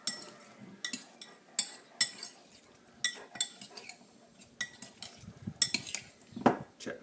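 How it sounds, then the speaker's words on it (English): A utensil stirs trout tartare with hemp oil in a bowl, giving sharp intermittent clinks and scrapes against the dish in an uneven rhythm, close and fairly quiet with soft rustling between strikes. "Pop that in there, give it a little stir around."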